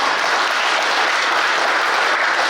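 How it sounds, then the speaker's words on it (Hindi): Dense, steady applause from an audience at a public gathering in Bidar, Karnataka, filling the whole stretch at full loudness with no voices over it. "तालियों से स्वागत करो"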